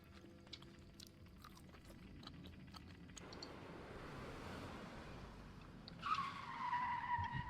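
In the horror video game Fears to Fathom, a car approaches and rolls past outside, a low rumble building with tire noise and a brief squeal near the end, faint under the ambient game sound.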